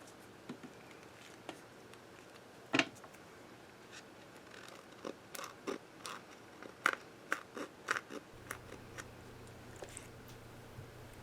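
Scissors snip through paper to cut out a flower shape, a series of quiet, irregular crisp clicks close by with a faint low hum, no speech.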